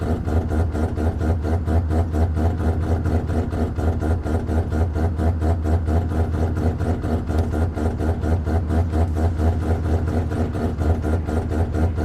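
Race car engine idling in the Project Motor Racing game, a steady, throbbing low rumble with a fast regular pulse, loud and continuous with no voices over it.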